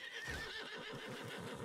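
A horse in a video game lets out a continuous whinnying neigh with faint hoof clatter beneath, steady and moderately loud, no talk.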